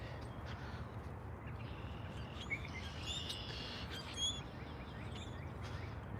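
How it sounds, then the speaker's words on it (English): Wild birds calling outdoors, including robins, cardinals and blackbirds, with scattered faint chirps and calls over a steady low rumble of background noise, distant and quiet. "A lot of birds in this area."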